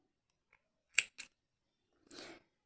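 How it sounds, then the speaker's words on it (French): Scissors snip through white crochet yarn in a granny square project: a couple of crisp close cuts in quick succession, then a longer rasping slice. "Là, je peux couper mon fil blanc."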